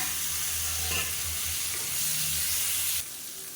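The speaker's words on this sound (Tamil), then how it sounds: "வெங்காயம் நல்லா வதங்கிடுச்சு இப்போ இந்த ஸ்டேஜில் மீடியம் சைஸாக ரெண்டு தக்காளி சேர்த்துக்கலாம்" Small onions and tomatoes sauté in a pan for a spicy chutney, giving a steady close sizzle with light stirring scrapes throughout that drops off abruptly near the end.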